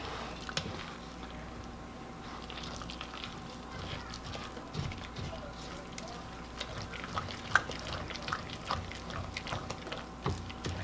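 Buttermilk is stirred into a loose batter for Appalachian gritted bread, producing soft, wet squishing and sloshing strokes at a steady pace, close but quiet, with no one talking.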